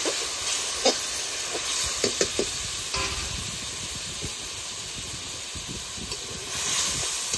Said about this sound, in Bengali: মশলাটা ভেজে ভাজা হয়